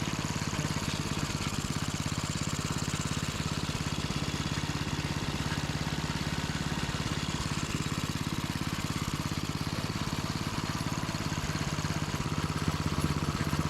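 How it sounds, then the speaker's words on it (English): A 5hp Briggs and Stratton small engine runs steadily with a constant rapid putter and clatter, loud and close, with no talk. "Engine runs good."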